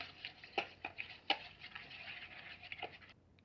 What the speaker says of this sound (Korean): 자, 이제 이 물과 물풀을 섞어주세요.